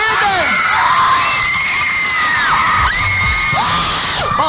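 A crowd of fans in Bolivia screams loudly for La Paz in a sustained roar, with high shrieking voices and cheering that swells and holds through the whole stretch.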